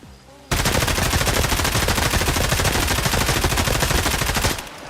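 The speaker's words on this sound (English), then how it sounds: "we're gonna go with the M4 just because of the high rate of fire performance" An M4 rifle in Escape from Tarkov fires a single full-auto burst of about four seconds, loud and close, a rapid even stream of shots that starts abruptly and ends sharply.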